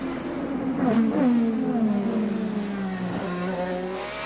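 An IndyCar race car threads the tight concrete-walled section of the St. Petersburg street circuit, its high engine whine sliding down in pitch, then climbing again as it accelerates, loud and close.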